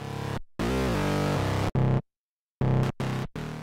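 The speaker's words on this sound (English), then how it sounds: "distortion, a more aggressive one" Heavily distorted guitar chords through Ableton Live 10's distortion mode ring out in short bursts, aggressive and saturated, separated by abrupt silences; no one speaks.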